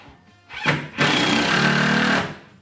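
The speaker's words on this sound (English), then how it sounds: "You hear the difference of how the drill's struggling now, so that lets you know that you hit a wall stud." A power drill whirs briefly, pauses, then runs longer under heavy load, straining and grinding as it drives a screw through trim into a wooden wall stud.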